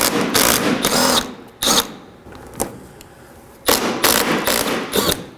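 A power tool whirs in short bursts while 10mm bolts are backed out from under the front bumper of a 2013-2019 Nissan Sentra, several loud close runs separated by brief pauses and clicks.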